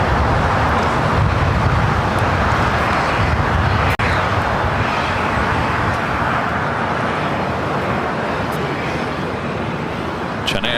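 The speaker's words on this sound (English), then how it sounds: "the 777 freighter now rolling down at 25 left." China Airlines cargo Boeing 777 freighter rolls down runway 25 left at LAX with a loud, sustained broadband jet roar, heard steadily throughout under faint talk.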